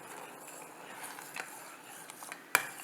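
A metal spoon stirs and scrapes softly inside a pot of moong dal payasam, with faint scattered clinks and one sharper clink near the end.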